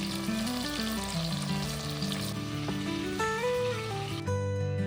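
Roasted vegetables and roasted garlic sizzle in melted butter in a pan, a loud continuous frying hiss with a faint stir, while background music plays throughout.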